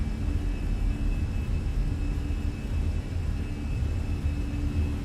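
Airbus A320 engines spooling at takeoff power in a flight simulator, a steady loud roar with a low rumble and a thin constant whine, unbroken throughout.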